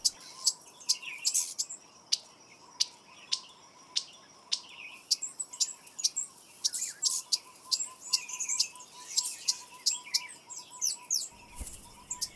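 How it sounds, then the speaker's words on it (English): Red-headed male birds in breeding season give repeated sharp territorial chirps and calls, near and far, over a faint insect buzz and steady high background chorus. "In the breeding season, the red-headed males are extremely territorial and vocal."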